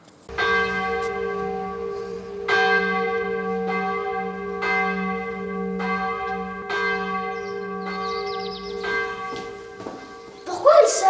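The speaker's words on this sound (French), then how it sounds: "Pourquoi elles sonnent les cloches?" Church bells toll steadily in a slow, even rhythm, each stroke ringing out and ringing on with long sustained resonance, with a brief burst of noise at the end.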